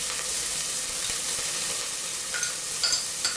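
Chopped garlic and onion sizzle steadily in hot oil in a pan as a base for fish chupin, a bright constant hiss with a few small pops, loud and close.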